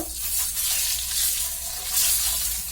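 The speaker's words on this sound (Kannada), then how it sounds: "ಮೊಟ್ಟೆನ ಇದರಲ್ಲಿ ಫ್ರೈ ಮಾಡ್ಕೋಬೇಕು" Eggs fry in a masala of turmeric, chilli powder and salt, giving a continuous close, even sizzle with no pauses.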